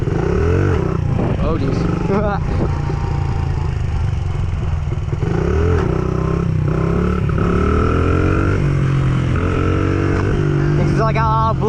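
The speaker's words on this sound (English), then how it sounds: "if I blip the throttle, I can hold them pretty good" A motorcycle being ridden during stunt practice roars loudly nearby, its engine rising and falling through repeated throttle blips while a rider talks over it.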